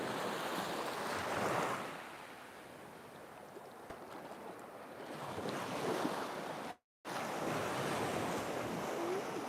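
Calm sea waves wash gently onto Khao Takiab beach in Thailand, a soft continuous surf rushing in slow swells under steady wind noise, with a single brief gap.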